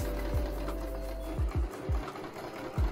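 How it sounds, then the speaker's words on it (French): A sewing machine stitches a seam along a pinned sleeveless vest, running with a steady mechanical whir and a few rhythmic thumps of the needle and feed, close and alone without talk. "Ensuite je fais ma petite couture tout le long en suivant mes épingles à environ 5 mm du bord"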